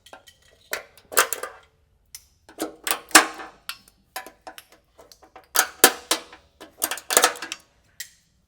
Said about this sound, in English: We're going to pop out any of these plastic plugs that are in the way, and they're kind of hard to get out